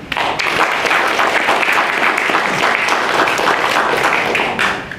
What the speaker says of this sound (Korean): 우리 스스로에게 큰 박수가 필요합니다